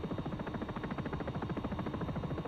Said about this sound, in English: I'd love to get another sound for this chopper, the Sikorsky,